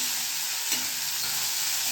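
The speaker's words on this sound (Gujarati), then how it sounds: "સંભારોનો વઘાર કેવો સરસ આવ્યો" Mustard-seed tempering (vaghar) for a cabbage and green chili sambharo sizzles and crackles steadily in a hot pan, loud and close, with no voices.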